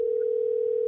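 A telephone dial tone while placing a call: one steady, unbroken electronic hum, loud and clear from start to end with nothing else audible.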